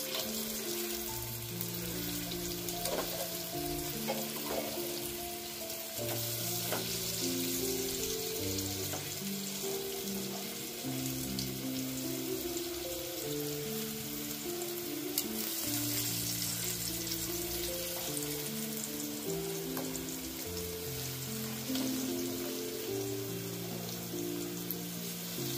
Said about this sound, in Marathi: ते बघा आता हे व्यवस्थित परतून घेऊया, काय वेळ लागत नाही फ्राय हो.